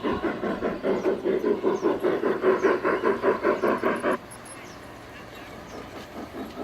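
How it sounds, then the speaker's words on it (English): A train chugs past with a steady, rhythmic pulsing over about four seconds, then drops away to quiet background ambience. "Here comes a train"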